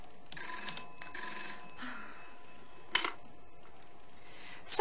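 A telephone rings in two long electronic trills, followed by a brief click and another ring starting at the end, with no talking.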